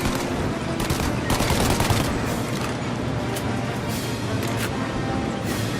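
A mounted turret machine gun fires in sustained automatic bursts during a vehicle chase shootout in Mafia: Definitive Edition, loud and continuous, with dense rattling volleys and a faint voice underneath.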